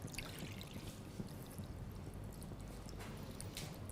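Water being poured into a bowl of gelatin sheets: a faint, steady stream with soft trickling and splashing, continuous throughout.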